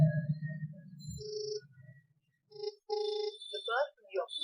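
The incoming-call ringtone of a Bolt Drip Plus smartwatch plays as short, bright electronic tones. A voice talks over the start, and the chiming notes continue after it stops.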